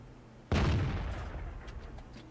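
The E-25 tank destroyer firing its gun in World of Tanks, a single sharp heavy cannon blast that booms close and loud, then decays into a lingering rumble with faint scattered clanks.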